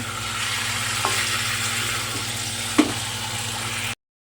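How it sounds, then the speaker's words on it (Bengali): Chicken meat sizzles and fries in a pan as it is stirred, a steady close crackling hiss with a couple of soft scraping knocks from the spoon, no talking over it. "তো দেখো বন্ধুরা আমি মাংসটা ভালো করে নেড়ে নিয়েছি"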